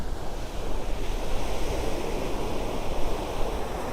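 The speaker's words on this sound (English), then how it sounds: "I love the sound of the ocean waves." Ocean surf off Miami, Florida rolls in as a steady, dense wash of breaking waves, close and fairly loud, with some wind buffeting the microphone and no voices.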